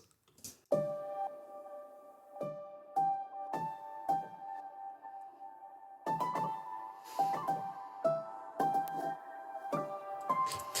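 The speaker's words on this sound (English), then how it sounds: "let's take a look at the piano, which comes in at the end of the song" Oliver Arnold's piano plugin plays a sparse part of separate struck notes and chords, each ringing out and decaying, then growing busier and fuller in the last few seconds, heard alone with no voices.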